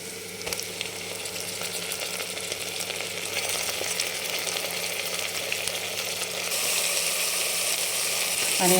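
Mutton rubbed with turmeric and salt sizzles loudly and steadily in a hot pan. The hiss grows a little stronger toward the end, with faint clicks of stirring mixed in.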